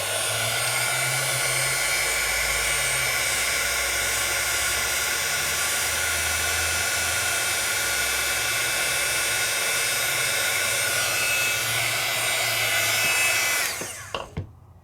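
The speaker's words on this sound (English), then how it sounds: "for a beginning heat tool, it's a really good heat tool" A beginner heat embossing tool blows hot air with a steady, loud, broadband whoosh and motor whine for about fourteen seconds, then cuts off abruptly at the end.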